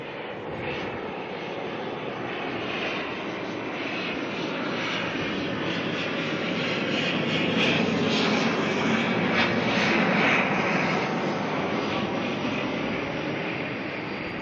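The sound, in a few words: ATR turboprop airliner arriving at Auckland from Tauranga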